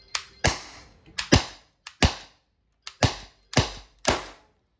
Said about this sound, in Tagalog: Firing, TR-50, caliber 50. Tactical revolver. Firing!